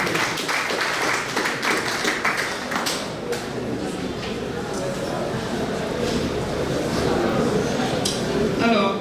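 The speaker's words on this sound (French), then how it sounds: "Applaudissez pour les témoins de la future épouse." Guests at an official wedding ceremony clap for the bride's witnesses, with scattered, uneven claps over the crowd's chatter, and the clapping builds again near the end.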